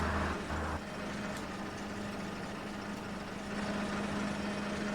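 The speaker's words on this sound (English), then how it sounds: "I'm pretty sure the engine is right here" Bus engine idling in the OMSI 2 driving simulator, a steady low hum with a constant drone tone, moderately loud and unchanging, with a brief rougher pulse near the start and no talking.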